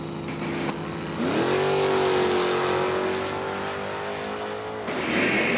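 A 69 Nova and a Mustang drag race at Numidia Dragway: a loud engine roar climbs into a sustained high-pitched drone for several seconds, then drops off, and a fresh burst of engine noise follows near the end.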